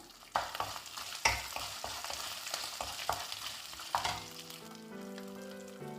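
Coconut pieces and dried chilies frying in hot oil in a pan for beef roast, a loud crackling sizzle with sharp pops and stirring clatter, then a steady fry under a faint tonal hum.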